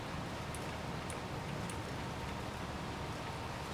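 Steady rain hisses across a Farming Simulator 22 field in a constant, even wash of noise, with a few faint high ticks near the start and no voices.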